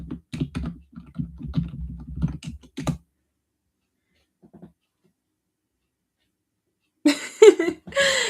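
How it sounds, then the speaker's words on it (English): Quick clicks from typing on a computer keyboard come in a close, uneven burst for about three seconds, followed by near silence and then a voice laughing. "I'm going to type it in chat just in case."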